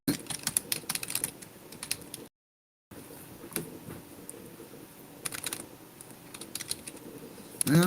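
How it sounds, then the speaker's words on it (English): Fingers typing on a computer keyboard in uneven bursts of close, crisp key clicks, interrupted by a short gap of silence before the tapping resumes. "Man, I need to practice typing."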